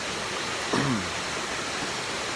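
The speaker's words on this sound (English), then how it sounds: "And so is this waterfall here. It's really awesome." A waterfall at Tomlinson Run State Park makes a constant, even rush of falling water, with one brief sweeping chirp near the start.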